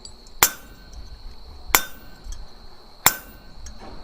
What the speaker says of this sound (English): just kind of working our hammer blows to the outside edge